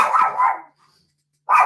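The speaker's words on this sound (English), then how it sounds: "my dog is going to go crazy" A pet dog barks loudly and close by, giving two quick barks, then a short silence before another bark.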